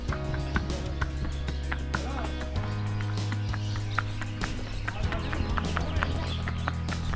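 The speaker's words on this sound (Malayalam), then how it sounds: "കുതിരപ്പുറത്ത് ഇങ്ങനെ പോകുന്നുണ്ട്" Hooves of a ridden horse clip-clop at a steady walking rhythm at a desert wildlife park, a moderately close, regular series of clear knocks over low background hum.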